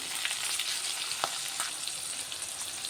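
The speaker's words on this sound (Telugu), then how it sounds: "ఇప్పుడు ఎల్లిపాయలు జీలకర్ర కూడా కొంచెం ఫ్రై అయినాయి." Onions and cumin seeds fry in hot oil, giving a steady, close sizzle with a few soft crackles and pops and one sharper spit partway through, heard alone without talk.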